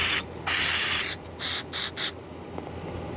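Several sharp bursts of carburetor cleaner sprayed into an Evinrude 30hp outboard carburetor, one long hiss followed by three short ones in quick succession, close and loud over a quiet background.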